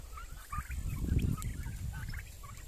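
Several young turkeys in a pen gobble and chatter together nearby, a busy, warbling clamor with scattered higher calls over a low rumble.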